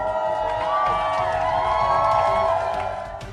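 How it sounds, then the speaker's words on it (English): A crowd of soldiers cheers together, a loud sustained roar of many voices with shouts and whoops that swells and then fades slightly at the end. "A cheer rises from the sea of soldiers"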